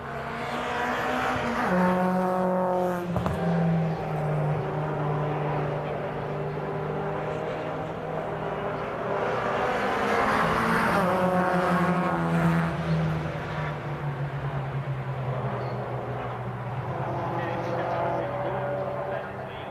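MG race cars lapping Cadwell Park circuit in an MGCC Cockshoot Cup race, engines droning and rising in pitch as they pass, loud and continuous, with a commentator talking over them throughout.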